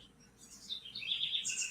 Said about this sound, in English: You can hear the birds singing and stuff like that